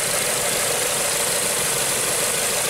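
A Nissan engine idles with an ignition misfire, likely from a cracked spark plug, giving a steady, loud, close mechanical drone with a broad hiss and no talking.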